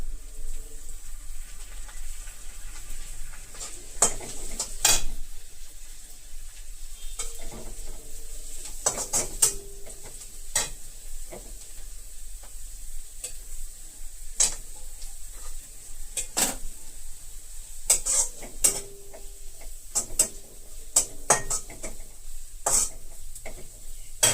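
Cabbage being stir-fried in a hot pan for vegetable fried rice, a steady sizzle underneath repeated sharp scrapes and clinks of a spatula against the pan, close and continuous.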